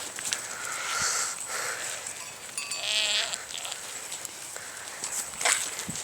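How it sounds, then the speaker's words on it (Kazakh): Sheep bleating at a night-time pen on a Kazakh farm, several scattered calls near and farther off over quiet rustling and faint insect hum, no talk. "Қойларды қамайын деп жатырмын."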